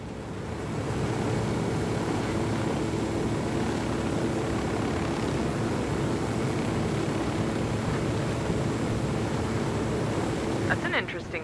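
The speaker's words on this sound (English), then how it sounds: "Interesting drone you have." A small surveillance drone in the Ghost Recon Wildlands video game flies steadily, its continuous whirring buzz loud and unbroken for the whole stretch, with a brief sharper rattle near the end.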